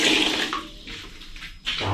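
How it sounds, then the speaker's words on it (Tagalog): Water runs briefly from a bathroom faucet in a campsite restroom, a close, splashing gush that dips and then surges again over two seconds. "May gripo. Ito yung gripo."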